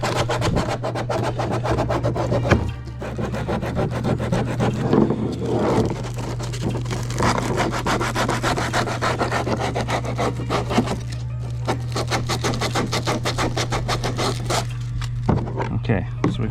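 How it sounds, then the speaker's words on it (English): Hand sanding around the hatch opening edge of a Perception Outlaw 11.5 kayak, a continuous close rasping scrub with steady back-and-forth strokes under a constant low hum. "really sand it down around the outside edge"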